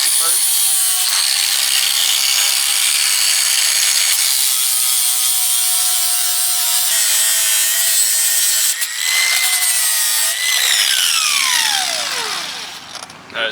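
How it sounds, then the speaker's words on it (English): Loud, continuous high-pitched grinding as the end of a muffler on a Chevrolet C1500 is cleaned up before welding, a steady abrasive whine that shifts in pitch near the end, with no talk. "we're gonna clean the end of the muffler up just so we could get a nice weld to it"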